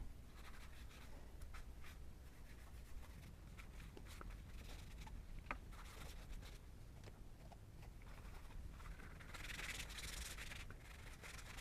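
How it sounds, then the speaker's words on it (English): Paint being rubbed onto paper for a concertina book of abstract paintings, a faint continuous dry scrubbing with a brighter rough patch near the end. "Maybe I'll rub a little bit of paint."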